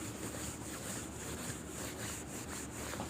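Writing is rubbed off a board in a maths class, a steady close scraping and rubbing with faint repeated strokes, continuous and fairly quiet.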